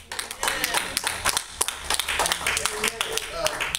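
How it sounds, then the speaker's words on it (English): A church congregation claps hands in a quick, uneven burst of sharp claps, close and lively, with voices mixed in over the clapping. "Give all men a hand clap"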